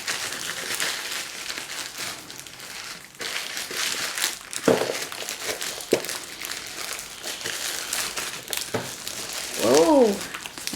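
A Kinder Joy egg's plastic wrapper crinkles and crackles as it is torn open by hand, with continuous close rustling and a faint voice in the background.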